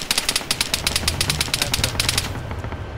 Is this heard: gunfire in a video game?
yes